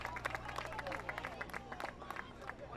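Crowd noise at a Lacey boys high school soccer game against Jackson Liberty, with steady babble, scattered clapping and excited cheering that swells and fades across a few seconds, heard from within the stands.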